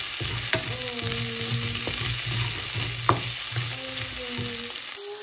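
Spring onion whites frying in a pan give a steady close sizzle, broken by scattered clicks and scrapes of stirring, with faint tonal hums underneath.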